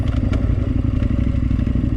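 Yamaha Tenere 700 motorcycle ridden along a dirt trail, its engine droning steadily and close throughout with a constant low rumble, light rattles and clatter from the bike over rough ground.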